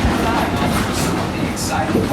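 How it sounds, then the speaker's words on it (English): A loud train at Animal Kingdom rumbles and rattles continuously, close and dense, with a brief brighter squeal near the end. "I know this train is loud"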